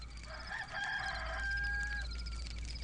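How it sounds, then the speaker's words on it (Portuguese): A rooster crows once in a drawn-out call lasting about two seconds. It is fairly quiet and set over a low steady hum, with no voices. "antes que o galo cante, 3 vezes tu me negarás"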